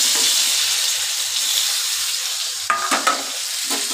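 Boiled potatoes coated in salt and turmeric fry in hot oil, giving a steady close sizzle with a few stirring clatters near the end.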